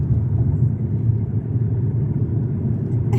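A car drives along the road, heard from inside as a steady, loud low rumble of engine and tyres that continues without a break and without talk.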